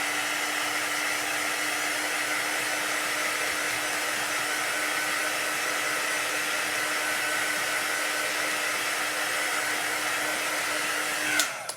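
A heat dryer blows steadily over chalk paste on a craft door tag etched with bugs, giving an unbroken, fairly loud whirring hum that runs alone for nearly twelve seconds before clicking off.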